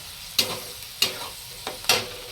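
A spoon stirs spiced eggplant mixture with turmeric, salt and masala in a pan, giving three separate scraping, gently sizzling strokes at an even pace, fairly soft and close.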